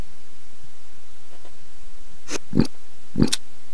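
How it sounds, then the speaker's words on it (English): A couple of short, gulping snorts of a pig eating in a video game, spaced apart over quiet background hiss. "That's like a pig when it eats."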